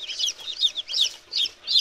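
Newly hatched chicks on day 21 of incubation, being moved into a brooder, give bright high peeps in quick bursts. They are close and fairly loud, with several calls within two seconds.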